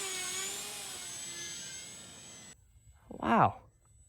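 A remote-control glider converted to motor power flies past, its steady whining motor drone holding for a couple of seconds and then cutting out, followed by a brief rising-and-falling whoosh as it passes close by.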